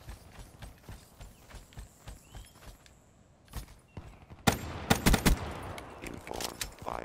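A machine gun fires in Call of Duty Black Ops during a Gun Game match. Quiet clicking and rattling give way to a dense, loud run of rapid shots in the second half.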